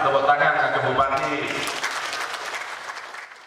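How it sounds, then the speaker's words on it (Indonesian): Applause for the Regent at a working visit with agricultural officials, a burst of clapping rising under a speaking voice and then fading over a few seconds. "Nah, aman, tepuk tangan ke Bupati"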